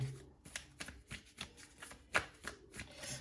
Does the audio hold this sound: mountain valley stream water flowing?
no